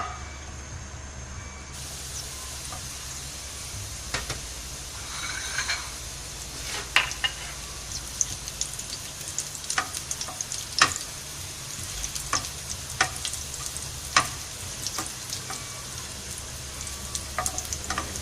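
Chopped garlic cloves browning in about two tablespoons of oil, a steady close sizzle with crackles and occasional light utensil taps throughout.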